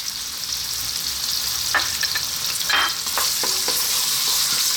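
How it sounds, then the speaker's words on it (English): Chopped onion and a heaped tablespoon of roughly chopped garlic sizzling in a pan for a lentil vegetable stew, a constant even frying hiss with a few soft stirring scrapes, close and alone. "We're going to start off by dropping in our onion. And our garlic."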